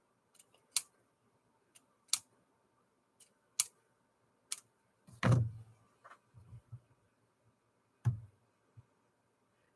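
Scissors take small snips of paper, a string of crisp, separate clicks spaced irregularly over several seconds, with a louder rustle of paper midway.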